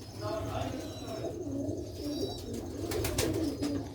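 Sialkoti pigeons coo in a steady low murmur, with faint chirps and a person speaking over the cooing.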